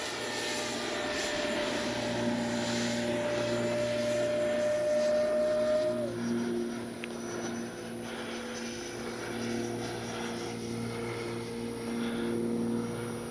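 A Freewing 70mm Yak 130 RC jet flies overhead, its ducted-fan engine a constant high whine that shifts in pitch as it passes, steady and moderately loud throughout with no talking.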